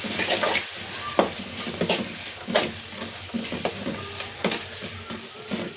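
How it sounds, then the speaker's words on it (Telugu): Green chilies and turmeric sizzle in a frying pan while a spoon stirs them, with scraping clicks and clinks scattered over a steady close crackle and no voices. "ఇప్పుడు అంతా మంచిగా కలిసేలాగా కలుపుకోవాలండి."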